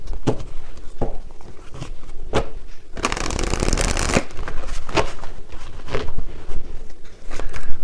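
Tarot cards shuffled and drawn close up: sharp rhythmic snaps and flicks every second or so, with a dense riffling burst in the middle, loud and clear.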